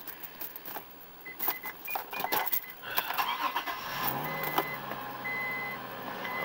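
A car engine starts up: a few clicks and key sounds, then the starter cranks and the engine catches into a steady idle, recorded close with no talking.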